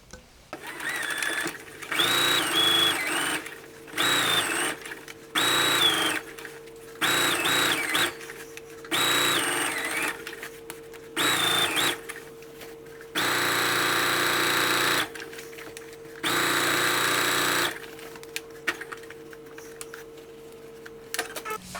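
A sewing machine understitches the facing of a summer top in repeated bursts of fast mechanical whirring, several seconds each, separated by short pauses with faint handling clicks and brief murmurs.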